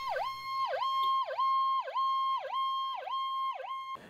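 An ambulance siren wails loudly and close by in a steady rising-and-falling cycle, about seven sweeps in four seconds, with no voices over it.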